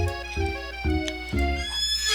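Colonel Sanders' horse in the video game I Love You, Colonel Sanders neighs in a few loud, close whinnies, each opening with a low snort-like burst and ringing into a bright, wavering tail.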